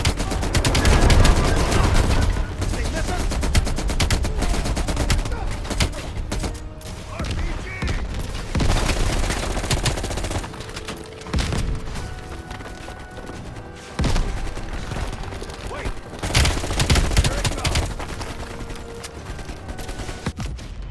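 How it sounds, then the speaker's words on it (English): Sustained automatic fire from an LMG in Black Ops Cold War, loud and dense bursts with brief pauses, mixed with other battle noise and some speech over it. "at least I could be a little more aggressive with the LMG"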